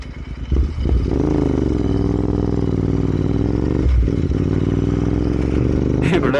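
A Royal Enfield Interceptor 650 fitted with a loud Red Rooster full-system exhaust runs close by, holding a deep, steady throbbing drone with slight swells, plus brief louder rumbles near the start and end.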